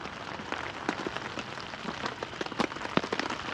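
Rain falls steadily on a campsite at night during hammock camping, a dense close hiss with scattered sharper drops tapping on nearby surfaces throughout, and no voices.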